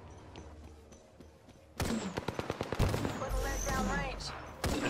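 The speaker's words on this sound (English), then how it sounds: "They're shooting at you." Gunfire in a battle royale shooter cracks out as a rapid string of sharp shots, fairly close and then continuing in bursts. Players talk over the shots.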